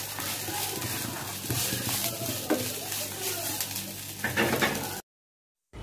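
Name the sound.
frying dried jute leaves in a pan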